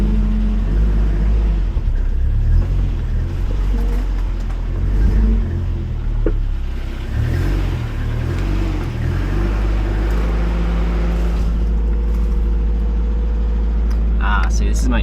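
A Toyota 86 engine with a sticking throttle idles close by in a garage as a steady low rumble with slight rises and falls, and someone talks over it throughout.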